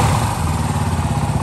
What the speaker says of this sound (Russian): Двигатель работает изумительно. Ничего не стучит, не гремит.